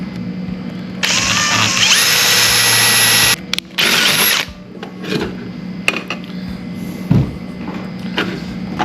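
A power drill bores a hole for a Campbell pulley bracket in loud bursts: a long whine, a short second run, then clicks and handling noises.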